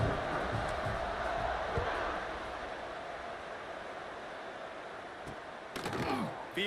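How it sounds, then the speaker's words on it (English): A stadium crowd in a football video game, a steady broad roar at moderate level that thins out slightly, followed by a few sharp knocks near the end. "this crowd now ready to get behind them"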